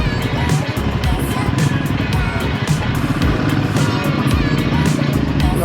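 A Royal Enfield Himalayan 450 motorcycle rides off-road in Montenegro, its engine thrumming loudly and steadily with a rough, pulsing note and gritty wind and terrain noise.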